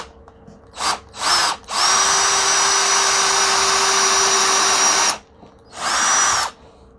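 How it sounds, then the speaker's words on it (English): A power drill bores pilot holes into a tabletop piece for a custom Kydex press build, close and loud, with two short bursts, one long steady run, then another burst, the motor whining up and stopping each time. "I'm going to take my drill"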